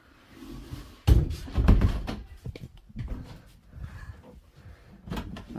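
A door to the master bedroom in a small caravan is opened, giving a sudden thunk and clattering knocks of the latch and panel, followed by softer bumps and handling noises close by.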